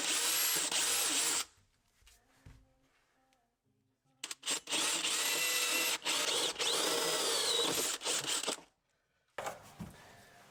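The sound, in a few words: power drill drilling for PVC hose pipe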